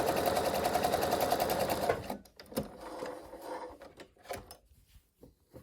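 A sewing machine runs in a fast, even stitching whir for about two seconds while sewing interfaced cuff layers, then stops, followed by soft clicks and fabric handling sounds nearby.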